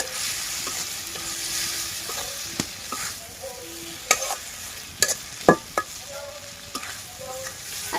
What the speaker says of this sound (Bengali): মাছগুলোকে দেওয়ার পর মশলার সাথে খুব ভালোভাবে মিশিয়ে নিব।